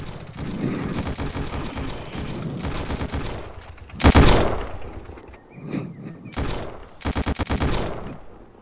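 Gunfire in a VR shooter video game: loud bursts of rapid automatic fire and single heavy shots, with a booming impact partway through, all close and dense.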